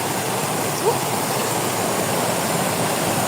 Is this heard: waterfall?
yes